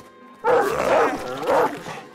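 Wargs, wolves ridden by goblin cavalry in the Battle Brothers video game, give two close, loud growling barks about a second apart, with no talk over them.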